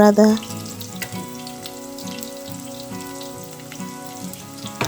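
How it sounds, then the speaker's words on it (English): Onions hit hot cooking oil for a Ugandan cowpea dish, opening with a short burst followed by a steady moderate sizzle, with faint tonal hum and occasional clatter underneath. "add our cooking oil. We're going to heat it a bit, and once it's ready, we add our onions"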